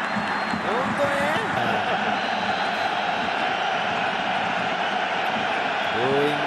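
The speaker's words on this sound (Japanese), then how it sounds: "ブーイングすごいな。" A J1 League football stadium crowd booing after a penalty kick is awarded, a dense sustained roar filling the space, heard under a commentator's voice throughout.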